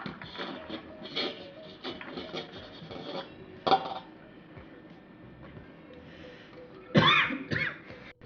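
Soft, irregular scraping and clinking on a plate as sago and crushed peanuts are mixed by hand, with a couple of louder knocks, fairly close.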